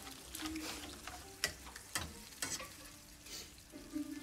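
Food frying in a pan gives a soft, quiet sizzle with scattered sharp crackles and pops at irregular moments.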